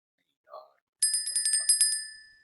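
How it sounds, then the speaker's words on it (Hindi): A bicycle bell rings in a quick burst of about eight bright, metallic strikes, loud and close, after a brief faint sound just before it. "फिर किधर घंटी बज गई?"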